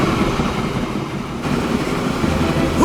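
Steady rumbling rail noise of a train running in Transport Fever 2, a continuous even drone of wheels and carriages with no talk over it.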